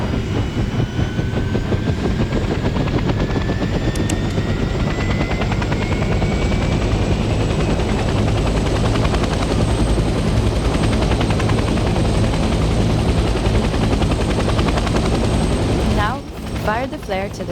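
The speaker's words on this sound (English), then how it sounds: "The helicopter will now take off automatically and remain in a hover state." A helicopter's steady rotor thrum drones loudly and continuously, hovering in place, with a brief shift in the engine noise near the end, in Hell Let Loose: Vietnam.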